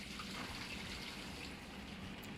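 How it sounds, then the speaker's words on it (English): A toilet flushing, heard as a steady, full rush of water that runs without a break for a couple of seconds with no voices over it. "toilet just flushed"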